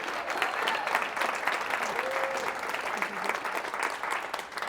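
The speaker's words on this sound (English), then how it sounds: "Let's give her a round of applause, guys." An audience at a real estate conference applauds, a dense, steady wash of clapping from many hands that carries on without letup.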